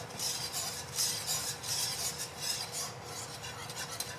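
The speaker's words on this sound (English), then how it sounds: "I'm just stirring it constantly." Enchilada sauce stirred constantly in a pan, rhythmic scraping and rubbing strokes repeating roughly every half second, close and fairly soft with no talk.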